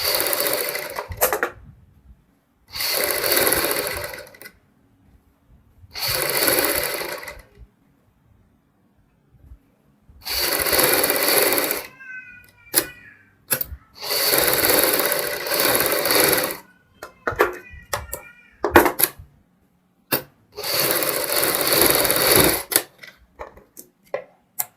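An electric sewing machine runs in repeated bursts of a few seconds each, broken by silent pauses, as it stitches a blouse back neck with buckram along the edge. The whirring is close and steady, with small clicks between runs and no talk.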